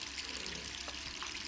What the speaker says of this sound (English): Why do you leave your water on?